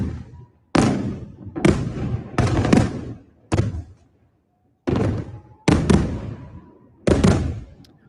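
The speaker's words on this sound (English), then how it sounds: "there's videos circulating widely of, like this one, of clearly missiles striking Israel" Recorded missile impacts in Israel: a series of heavy, booming thuds, about six separate blasts at irregular intervals, each with a sharp onset and a decaying rumble, with no speech.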